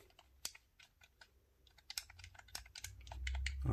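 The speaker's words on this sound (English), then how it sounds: "Okay, these are clicky buttons, not soft and squishy." Buttons on a Stadia Founder's Edition controller click sharply, a string of crisp taps at an uneven pace with short pauses, close and fairly quiet, ending under a rising low rumble.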